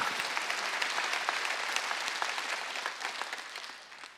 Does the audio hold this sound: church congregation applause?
yes